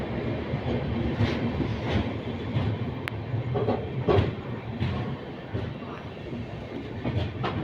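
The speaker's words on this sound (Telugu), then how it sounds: "20701 సికింద్రాబాద్ తిరుపతి వందే భారత్. ఈ ట్రైన్ అనేది మన వెనకనే వస్తుంది." A 20701 Secunderabad–Tirupati Vande Bharat train passing close by, a steady loud rolling rumble with faint wheel clatter and rattling, heard alone.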